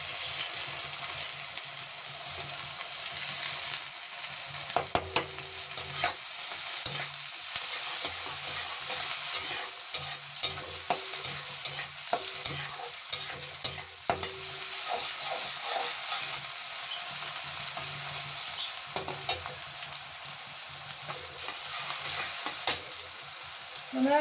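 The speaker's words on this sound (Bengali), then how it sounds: "দেখেন পেঁয়াজটা ভাজা হয়ে গেছে।" Onions for pav bhaji sizzle steadily in a pan while a utensil stirs and scrapes, adding scattered clicks and knocks over the constant frying hiss for a long stretch without speech.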